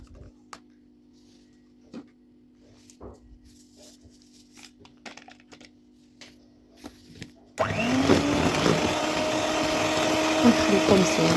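Cake batter made with yogurt and water is mixed: soft scattered clicks over a low hum give way abruptly to a loud, steady whirring churn that runs to the end.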